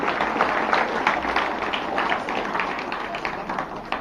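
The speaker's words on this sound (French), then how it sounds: "Très fort, les applaudissements." A crowd claps for a tennis club marching in a town associations parade in Le Carbet, steady moderately loud applause throughout.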